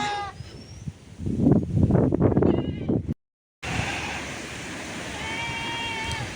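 Goats bleating close by on a farm, several wavering cries over a windy, noisy background, with a brief dropout midway and a faint bleat near the end.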